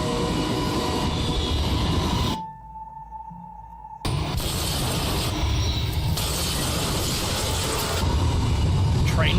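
Train sounds from a train simulator game trailer: a dense rumbling, clattering rail roar broken by a sudden quiet gap with a steady tone, then the loud rolling noise resumes, with speech mixed in.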